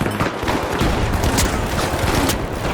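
Dense, loud gunfire in the video game The Finals, a continuous rattling fusillade of rapid shots layered over one another with no break.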